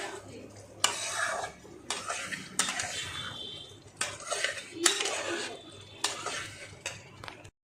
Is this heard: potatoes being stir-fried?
yes